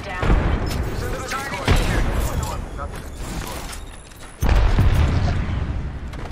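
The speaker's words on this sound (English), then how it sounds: "Getting shot at. Taking fire." Gunfire and explosions in the video game Apex Legends, with repeated sharp shots and booming blasts in quick succession, loud and dense, while a character voice speaks over the action.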